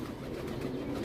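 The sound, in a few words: pigeon cooing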